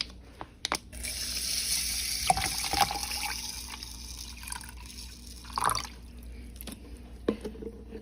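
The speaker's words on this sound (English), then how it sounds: "And I just pour that in." Bottled water pours over rice in a container, a steady close splashing and trickling stream lasting several seconds with a few knocks before and after.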